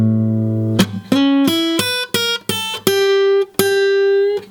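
A blues guitar lick, measure six, runs as a quick string of close, clear single notes with slides and sharp plucked attacks over a few seconds, alone.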